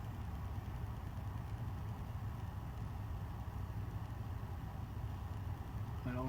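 A 56-inch Compton Greaves industrial ceiling fan with heavy steel blades runs with a constant low motor hum and drone, steady and close, ending in a brief faint tone, with no talk.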